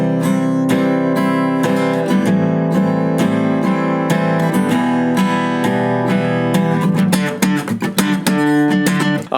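Guitar strumming the chord progression of a song, steady rhythmic chords ringing loud and close, with a run of sharper, choppier strums near the end and no talking.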